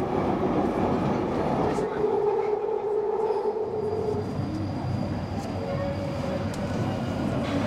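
Inside a moving London Underground train, a steady close rumble of wheels on track with clattering and a faint squeal, while people talk over it.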